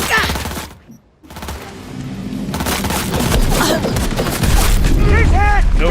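Rapid gunfire bursts and booms from a firefight in the Cyberpunk 2077 video game, loud and sustained, with voices shouting over the shooting.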